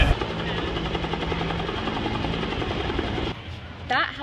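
A helicopter's rotor thumps and engine drone fill the clip steadily, then the sound drops abruptly near the end as brief chirps appear.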